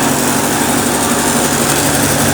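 An atta chakki flour mill driven by a 7.5 HP single-phase motor runs loud and close, with a dense, steady whirring grind that stays constant throughout and has no pauses or voices.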